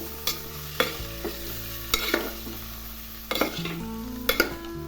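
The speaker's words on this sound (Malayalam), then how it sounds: "കുറച്ച് എണ്ണ ഒഴിച്ചിട്ട് ഇതൊന്ന് വാട്ടിയെടുക്കണം" Onion frying in oil in a pan, a steady close sizzle with a few sharp spatula scrapes and knocks against the pan at irregular intervals, with no voices over it.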